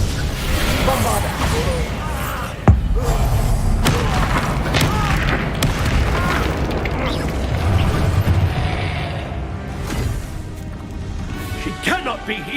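A Bombarda spell explosion from the video game Hogwarts Legacy lands as one sharp, punchy blast early on, set within a dense bed of rumbling game effects and voices talking.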